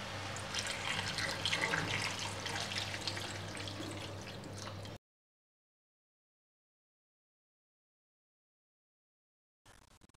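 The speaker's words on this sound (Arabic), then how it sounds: "تمرقوه بالماء السخون" Hot water pours into a pot of fried chicken, a loud, steady splashing rush for about five seconds before it stops abruptly, with a brief burst of the same noise near the end.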